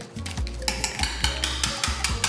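A whisk beats rapidly against a bowl during a kids' cooking lesson, a steady series of bright metallic clinks and taps in quick rhythm, close and clear with no talking.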